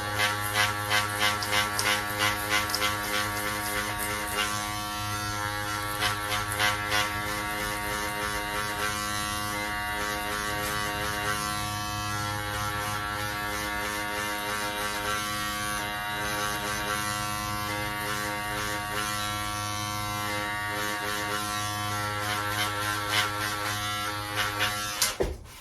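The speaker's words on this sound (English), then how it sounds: "Then next, you wanna get your trimmers." Electric hair trimmers buzz steadily while cutting hair at home, a close, continuous motor whine with slight pulsing as the blades work through the hair.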